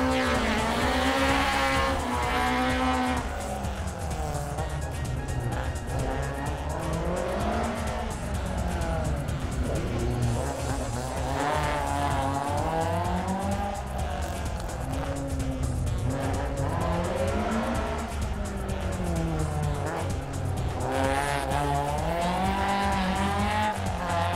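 A rally car launches onto the Champéry special stage at the Rallye du Chablais 2022, its engine revving hard and rising and falling through repeated gear changes, with tire noise. It is loud and close throughout.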